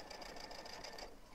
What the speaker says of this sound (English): now I'm going to sew right off the end there